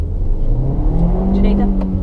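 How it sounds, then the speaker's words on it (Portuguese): A Hyundai Tucson 1.6 turbo accelerates hard, its engine note rising in pitch across two seconds, heard from inside the cabin along with some talk. "Dá um espacinho aqui para acelerar uma última acelerada"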